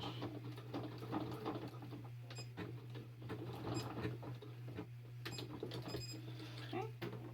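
A sewing machine runs steadily over fabric at a sewing class, backstitching the short end of a pin cushion, with a constant motor hum and needle clatter, fairly faint under room noise.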